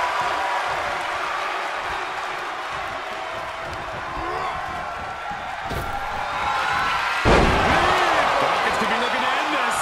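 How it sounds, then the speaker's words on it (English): A scoop slam in the WWE 2K22 wrestling game, with a sharp impact thud late in the match audio over a steady roaring arena crowd and cheering while a commentator talks throughout. "Textbook scoop slam."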